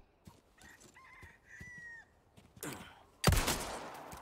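A chicken in the video game Resident Evil 4 gives a few short clucks and a drawn-out squawk at moderate distance, followed by a sudden loud burst of flapping or scuffling near the end.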